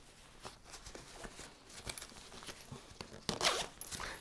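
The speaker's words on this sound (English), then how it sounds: "And then there's just a little zipper right here." A small zipper is pulled on a Bugaboo Butterfly stroller cover, giving short close rasping strokes with a louder pull near the end.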